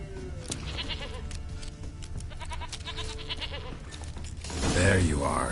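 A goat in The Witcher 3: Wild Hunt bleats several times in short, nasal cries, close by, with game ambience and a voice speaking between the calls.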